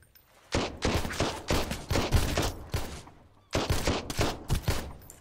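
Gunfire in the survival game Sunkenland: a rapid volley of loud, close shots in two bursts, the first running about three seconds, then a short gap before a second burst.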